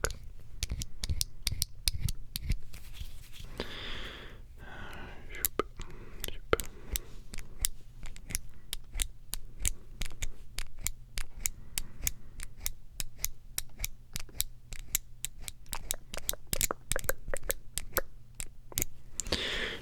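Broad, flat strokes of a blade carve through a bar of soap in a quiet room. Crisp, close scraping ticks repeat in a steady, rapid rhythm, with faint breathy voice under them.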